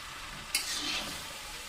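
Jujube pickle with Kashmiri chilli stirred in oil in a pan, a quiet, even sizzle with one brief scrape partway through, close and without speech.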